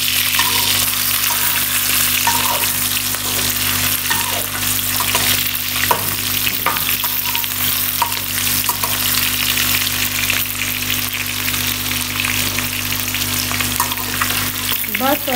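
Food frying in a pan while cooking arvi (taro root) chicken: a steady, loud, close sizzle that runs throughout, with occasional faint stirring clicks.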